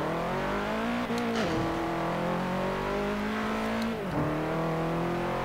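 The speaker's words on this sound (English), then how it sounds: "Gear grind." A car engine in the racing game Forza Horizon 4 drones steadily and close, with two brief dips in pitch where the gears shift roughly, and no voices.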